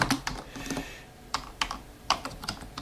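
Rapid typing on a computer keyboard, close and clear, with irregular clusters of light key clicks and a few heavier strokes, no voices.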